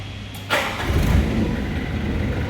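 A sewer trailer jetter's engine, started by remote, cranks and catches after a short pause, then settles into a steady, rumbling idle close by.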